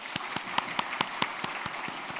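Congregation clapping for newly appointed deacons at a Sunday afternoon church service, a steady wash of applause with distinct rhythmic claps from nearby hands beating at an even pace throughout.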